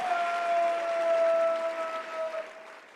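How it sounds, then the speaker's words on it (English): Sustained applause fills the hall at the CPAC 2025 conference in Washington, DC, a dense steady wash of clapping that slowly fades. "Give a round of applause"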